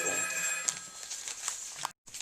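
A telephone rings during a recorded interview with a retired Army lieutenant colonel, its repeated electronic ringing running steadily through the room over a soft background hum, then stopping abruptly near the end.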